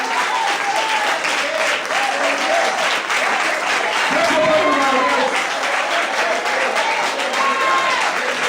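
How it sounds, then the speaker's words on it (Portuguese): A church congregation bursts into sustained, dense applause during an evening service, the clapping loud and continuous throughout with voices mixed in underneath. "Será que você pode aplaudir ao Senhor nessa noite?"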